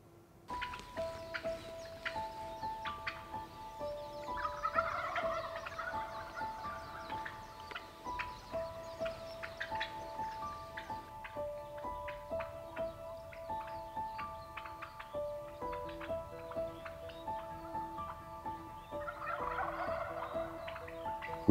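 Wild turkeys gobble outdoors in Hawaii, a few distant rattling bursts rising over a faint background layered with steady tonal sounds.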